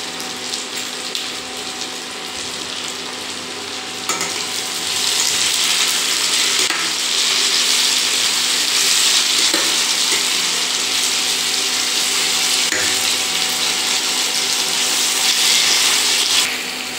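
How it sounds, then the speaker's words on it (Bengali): Mixed vegetables sizzle steadily in a hot pan while being stir-fried for macaroni, a broad hiss that swells louder after a few seconds and stays dense and continuous, with occasional stirring scrapes. "সব সবজি ভালোভাবে ভাজা হয়ে গেছে।"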